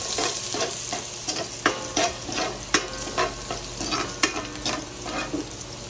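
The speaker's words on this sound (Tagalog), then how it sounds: "So maglagay na po tayo ng bawang para sa ating pork pickles fries." Garlic frying in hot oil for pork fries, a steady crackling sizzle broken by repeated scraping stir strokes close to the pan, with no voices.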